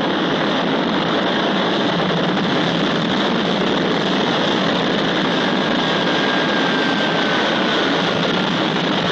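Spacecraft lift-off roar from the 1970s British TV series UFO: a steady, dense engine rumble and hiss holding at even loudness throughout, with no speech over it.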